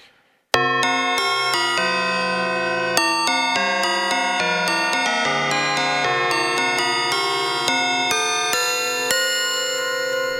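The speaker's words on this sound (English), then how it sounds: "FM bells." Chromatic FM bell synth notes from Neo FM in Cubasis ring out in a bright melodic run, each struck tone chiming and sustaining into the next, loud and clear with no talk.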